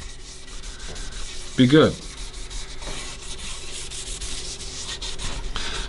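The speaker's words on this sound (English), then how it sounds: "when I do the steel wool trick, it should pull all the paint or stain, whatever you want to call this, off" Steel wool scrubbing stain off a textured epoxy guitar top, a soft steady rubbing with one brief louder scrape partway through and a few spoken words.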